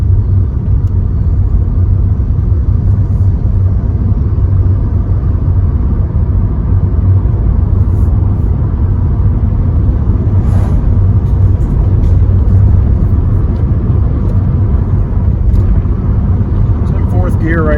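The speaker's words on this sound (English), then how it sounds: "we'll drive around what I call the block" A 2013 Hyundai Accent cruises on a test drive, its interior filled with a loud, steady low rumble of engine and road noise throughout, with a voice talking over it.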